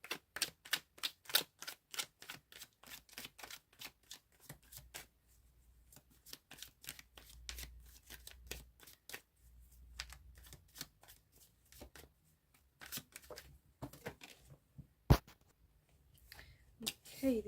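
Tarot cards shuffled by hand in a long run of quick riffles and slaps, crisp and close, with brief pauses and a few louder snaps and no talking.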